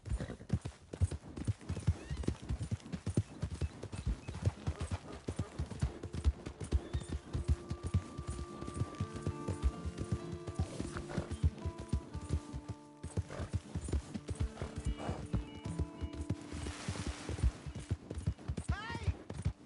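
Horse hooves clip-clop steadily in a video game, a dense run of close, rhythmic hoof strikes with an occasional whinny, while a voice talks over the top and game music plays.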